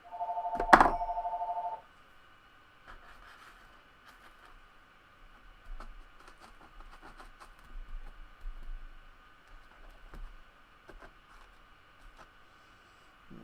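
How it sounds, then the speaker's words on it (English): A phone rings once with a loud, close electronic chirp at the start, then brief soft knocks and handling noises follow in a quiet room. "There goes the phone. My phone, not yours."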